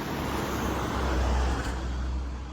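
A city bus on route 70 or 73 pulls in at a stop, its low engine rumble blending with steady roadway traffic noise at close range, loud and continuous with no talking.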